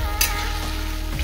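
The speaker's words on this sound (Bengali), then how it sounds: "কচুটা আর কিছুক্ষণ ভাজলেই রেডি হয়ে যাবে" Taro pieces fry in a pan with a steady close sizzle and a brief sharper spatter near the start, no voices.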